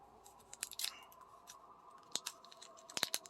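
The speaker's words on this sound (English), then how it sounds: "let's get my scissors out" A pair of scissors snips at an earring package holding titanium hypoallergenic paw print earrings, making sharp, close cuts and clicks in irregular clusters.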